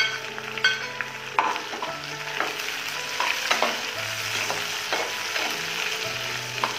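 Chicken frying and being stirred in a pan as the first step of a chow mein, with a steady sizzle broken by scraping stir strokes and clinks, close and fairly loud, without talk over it.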